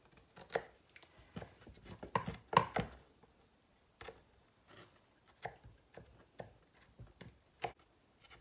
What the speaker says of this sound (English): That's a big piece of garlic. All right, so we're gonna chop that up.